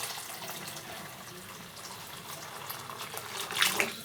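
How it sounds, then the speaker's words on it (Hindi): Water is poured into kadhi simmering in a pot, a soft continuous liquid trickle and splash that swells slightly near the end. "अब हम इसमें आधा लीटर पानी और ऐड करेंगे"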